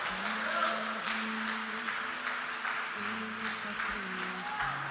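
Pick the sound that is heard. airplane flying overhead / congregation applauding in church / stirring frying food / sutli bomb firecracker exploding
congregation applauding in church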